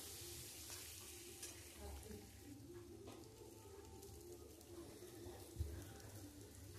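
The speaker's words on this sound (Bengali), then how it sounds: "আলুটাকে আর একটু ভেজে নেব" Diced potatoes frying with turmeric in a pan while making bhetki fish curry, a soft continuous sizzle with occasional stirring scrapes and a small clack near the end, faint and close.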